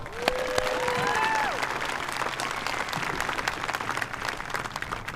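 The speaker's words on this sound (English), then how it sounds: "let's give them a big round of applause." A crowd applauds at a high school graduation ceremony, with dense steady clapping, cheering and a few whistles in the first seconds.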